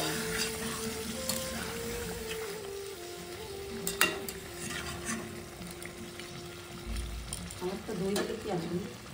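Curry gravy bubbles and sizzles in a cooking pot with a steady simmer and occasional stirring scrapes, while people talk nearby over a faint background tone.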